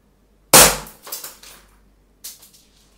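An Umarex Walther PPK CO2 blowback air pistol fires one sharp, loud crack with a quick slide clack, then a short sputter and a smaller second pop.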